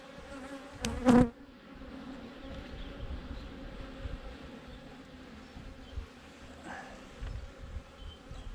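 Honey bees hum steadily around an open hive during a spring inspection, a continuous close buzz with a brief louder bump near the start and no talking.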